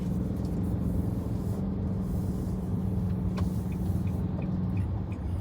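Car driving along a trunk road leading toward the Kuala Lumpur city center in the morning, a steady low road rumble and engine drone from inside the vehicle, continuous and without speech.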